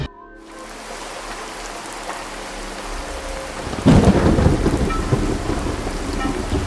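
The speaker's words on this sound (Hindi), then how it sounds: "वही बरसात की भयानक रात" Heavy rain pours steadily on a stormy night, then a loud rumbling thunderclap breaks in midway and the downpour continues beneath it, dense and close with no voices.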